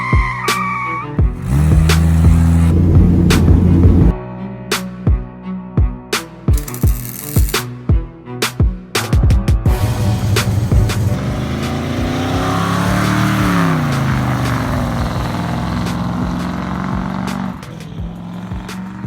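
A 1966 Ford Mustang engine, a swapped 302 V8, starts, revs in sharp bursts, then settles into a loud rumbling idle and rises and falls as the throttle is worked, close up.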